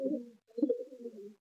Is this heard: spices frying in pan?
no